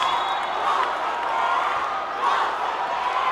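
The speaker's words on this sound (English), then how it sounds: "And listen to this crowd of St. Clair go bonkers." St. Clare College basketball crowd roaring during a finals game against Centro Escolar University, a loud sustained wash of cheering, shouts and some clapping from a large arena audience, steady throughout.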